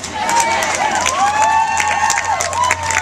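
A crowd at a statehouse rally claps and cheers loudly, a mix of rapid applause with rising whoops and shouted voices layered on top.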